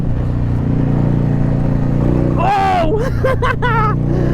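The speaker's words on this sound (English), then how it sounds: "That engine makes a amazing noise." A motorcycle engine drones steadily and loudly at close range while riding over a potholed, uneven lane, with an excited shout and some talk over it partway through.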